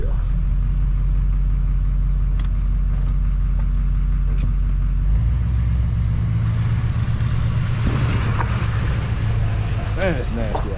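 A Brush Hawg boom truck drives off-road in four-wheel drive, its engine a deep continuous rumble that changes pitch as it shifts and revs about halfway through, with someone speaking over the noise.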